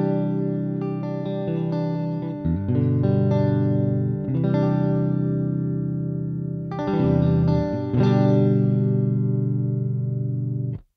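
Electric guitar played through the Neural DSP Archetype Cory Wong plugin's blue amp: clean, bright funky chords in rhythmic bursts with short pauses, given a chorus-like shimmer and slight echo, no talking.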